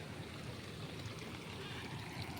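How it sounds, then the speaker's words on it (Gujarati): Floodwater pours off a flooded plot and runs along a road in a continuous, even rush of flowing water, close and unbroken, with no voices over it. "રોડ ફાડ નાખ્યો એટલું પાણી જાય છે જુઓ"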